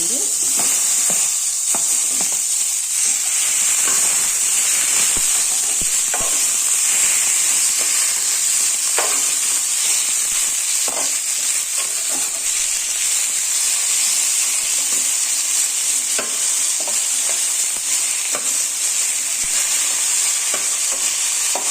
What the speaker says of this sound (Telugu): ఇప్పుడు ఇదే పాన్లో మనం కట్ చేసి పెట్టుకున్న టమాటాస్ వేసుకున్నాం